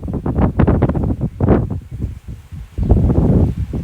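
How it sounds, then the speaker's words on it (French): A strong west wind gust blusters loudly against the microphone in uneven roaring surges outdoors, with rustling and buffeting that swells and eases several times. "Une bonne rafale."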